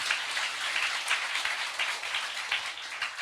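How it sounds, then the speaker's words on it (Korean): A church congregation applauding in thanks during a sermon, a continuous patter of many hands clapping at an even level, somewhat distant and rain-like. "감사의 박수로 할렐루야"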